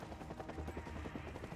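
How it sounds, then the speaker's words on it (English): A helicopter in the video game Bayonetta 3, a steady rapid rotor chop with a low engine rumble, fairly quiet and heard alone. "Helicopter."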